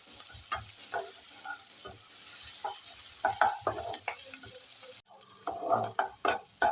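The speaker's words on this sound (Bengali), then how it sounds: "পেঁয়াজ আর কাঁচা লঙ্কা আমি ভালোভাবে ভেজে নেব।" Onions and green chillies frying in a pan, a constant soft sizzle with irregular scraping and stirring clatter from a utensil, close by and moderately quiet.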